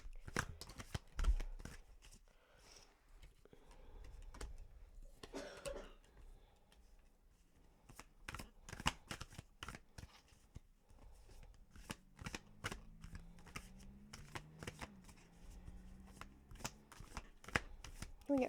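Tarot cards are shuffled repeatedly during a reading, a close series of rapid riffling slaps and flicks that comes in uneven bursts, with a throat clearing and a quiet murmur partway through.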